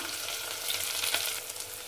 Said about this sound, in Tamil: பாருங்க வெங்காயம் நல்லா வதங்கிட்டு பாருங்க.